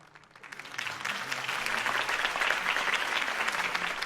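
Crowd applause in a Batman video game, rising from quiet into a steady, dense wash of clapping that follows a Harvey Dent campaign speech and holds loud for several seconds.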